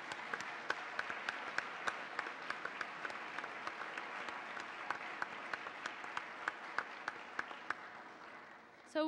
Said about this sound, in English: please, let's give them all a round of applause for what they bring to our city,